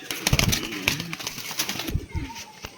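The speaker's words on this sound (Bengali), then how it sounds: "প্রচুর ছটপটে পায়রা।" A pigeon coos in low warbling phrases, mixed with sharp clicks and light rustling at moderate loudness.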